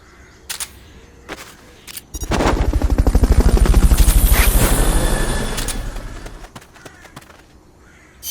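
A helicopter in the video game Metal Gear Solid Peace Walker sweeps in with loud, rapid rotor chopping that swells and fades over several seconds, preceded by a few sharp in-game clicks and bursts.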